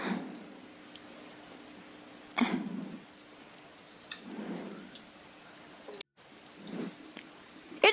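Night rain patters steadily as a soft, constant hiss, with a few louder bursts of heavier drops or rustling breaking through at intervals and a brief dropout near the end, with no talking.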